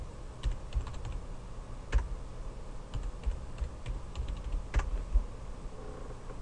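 A computer keyboard is tapped in a quick, uneven burst of keystrokes entering a cluster password, the clicks close and fairly quiet against a faint background hum.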